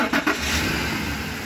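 A truck engine catches and settles into a steady, close idle after a few brief cranking bursts at the start.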